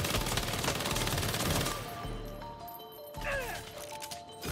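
A minigun fires in the video game Saints Row as a loud, rapid, continuous stream of shots for under two seconds, then cuts off and leaves fainter clatter and game noise behind it.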